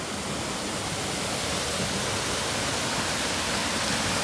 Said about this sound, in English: this is the little waterfall over here